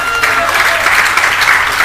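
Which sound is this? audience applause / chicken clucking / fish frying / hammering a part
audience applause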